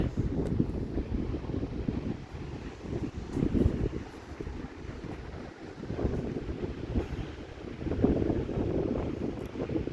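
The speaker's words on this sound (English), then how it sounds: "And there goes the wind." Wind on the Northern California coast buffets the microphone in a steady low roar with gusty swells, with no voices over it.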